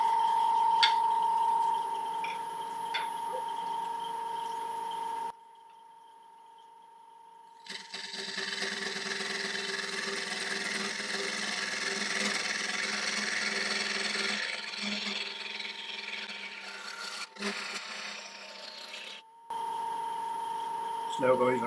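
A wood lathe spinning at about 1200 RPM as a hollowing tool cuts into a rotten log, giving a steady motor hum with broadband cutting hiss that drops away briefly mid-clip, then returns with scraping under occasional talk.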